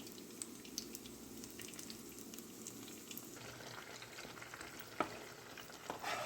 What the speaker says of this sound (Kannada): ಇದು ಈಗ ಹುರಿಬೇಕು, ಚಲೋ ಹುರಿಬೇಕು.